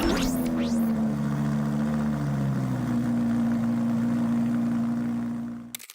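Lamborghini Huracan V10 with a muffler delete, a rising rev blip at the start settling into a loud, steady droning idle close by, then cutting off abruptly near the end.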